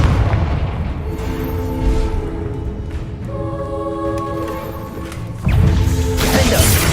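A Confringo fire spell bursts in Hogwarts Legacy amid an ongoing fight, with booming impacts, tonal magical whooshes and a sharp louder blast near the end.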